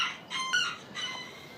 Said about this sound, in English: So the cockerels are in fine form today.